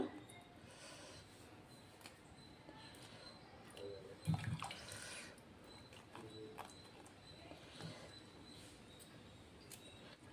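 Dried fish being rubbed and rinsed by hand in water until it runs clear: soft, quiet sloshing and trickling, with a louder splash about midway.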